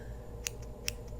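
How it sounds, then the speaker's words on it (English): Two crisp, close snips of small scissors trimming eyebrow hair, evenly spaced in quiet, gentle ASMR-style surroundings. "scissors."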